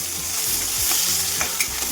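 Curry leaves frying in a hot pan for a Kannada-style field bean palya, steady close sizzle with faint stirring scrapes throughout.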